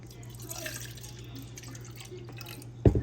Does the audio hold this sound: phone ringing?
no